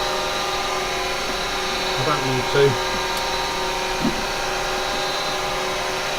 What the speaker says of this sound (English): No, I haven't stopped the lathe to do it.